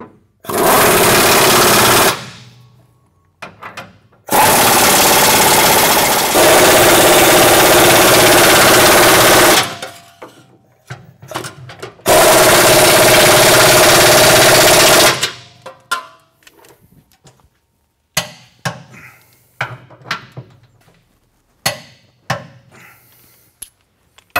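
A power impact tool rattles loudly in long bursts while tightening exhaust installation bolts, followed by scattered clanks and lighter taps of metal parts being handled.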